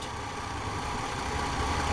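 A GMC truck engine idles steadily after running a long while, a continuous low rumble with broad mechanical noise and no talking.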